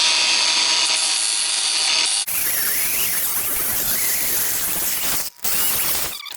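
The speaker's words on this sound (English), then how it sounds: "And now I'll touch that up with a grinder." A handheld grinder touches up welded scrap steel on a homemade RC lawn mower, giving a continuous, loud, harsh whine and gritty hiss that shifts in tone when the disc meets the metal and briefly cuts out near the end.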